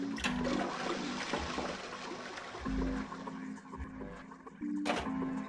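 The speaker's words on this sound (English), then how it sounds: "I love flushing toilets." A toilet in the video game 999: 9 Hours 9 Persons 9 Doors flushes repeatedly, with rushing water bursts and low tonal game sounds recurring over a steady noisy wash, loud and close.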